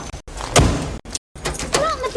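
A door slams shut amid a short burst of jumbled movement and a few loud thumps, cut into choppy fragments with brief silences between them.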